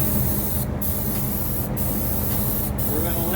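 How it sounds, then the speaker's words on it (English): Steady, loud hiss of a sprayer applying paint to kitchen cabinet doors on a turntable, a continuous close spray with a few brief breaks in the top end. "Nice consistent spray pattern, overlap."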